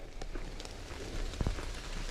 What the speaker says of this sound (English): and it's raining, so that's nice.